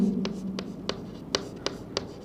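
Chalk or marker tapping and scratching on a board during a chemistry class, six short, sharp strokes in an even rhythm over a faint room hum.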